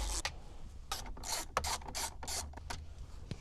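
Quick ratcheting clicks from a driver backing out 7mm screws holding a disc drive in a 2014-2018 Chevrolet Silverado dash, short bursts of fine metallic ticking, close and fairly quiet, no talking.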